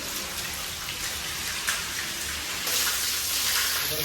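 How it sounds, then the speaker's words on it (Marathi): Rainwater pouring down a home staircase like a small waterfall during heavy rain, a dense continuous splashing hiss that swells louder toward the end, with no voices. "हे बघा वॉटरफॉल, रेअर वॉटरफॉल"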